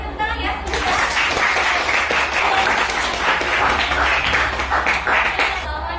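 A school class applauding, a burst of steady clapping from many hands lasting several seconds, moderately loud and dense, with some voices mixed in.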